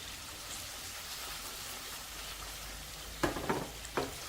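Prawns with curry leaves fry in hot oil, a steady close sizzle and crackle filling the pan, with a few sharper spits and pops near the end.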